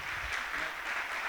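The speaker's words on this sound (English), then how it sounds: "I would like all of you to give him a big warm applause" An audience at a fitness business event in Romania applauding, a steady, even wash of clapping heard from a little distance with no voices over it.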